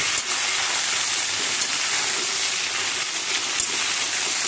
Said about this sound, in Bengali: তেল বেশ ভালো করে গরম করে নিয়ে আমি এতে দিয়ে দিচ্ছি নুন হলুদ মাখানো পটলগুলো